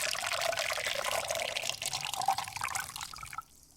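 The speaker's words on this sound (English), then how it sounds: "We hear the sound of water gently pouring into a metal pot." Water pours gently into a metal pot in a steady, close stream, with a brief trickle near the end before it cuts off. The sound is AI-generated.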